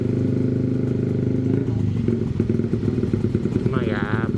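An old Suzuki Satria two-stroke motorcycle riding a street at night, its engine droning loud and steady up close, with a voice talking over it.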